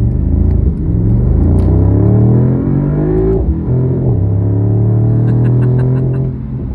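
A car being driven, its engine rumbling loudly and close as revs climb in rising tonal sweeps, dropping briefly with each gear change before pulling up again, with no one speaking.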